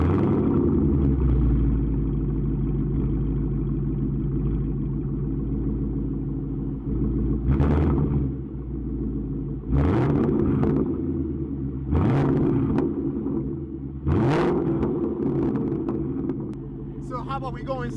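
A Ford Mustang GT V8 with a Borla S-Type exhaust idles with a throaty rumble, then revs sharply several times, each blip loud and booming before settling back.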